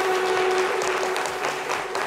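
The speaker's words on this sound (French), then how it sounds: "Merci de l'applaudir bien fort." A television studio audience applauds to welcome a presenter, a steady wash of clapping that holds evenly across the moment, with a faint tone running underneath.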